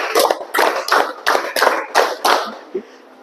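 A classroom group claps hands in short rhythmic bursts, several loud close claps in a quick sequence followed by a softer final tap.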